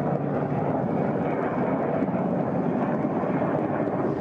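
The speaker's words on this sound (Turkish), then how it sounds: "Burada yoğun bir helikopter trafiği var. Görüyorsunuz helikopterlerin biri inip biri kalkıyor." Military helicopters land and take off near a gendarmerie brigade base in Çukurca, Hakkari, producing a steady, loud rotor and engine roar that stays continuous throughout with no voices.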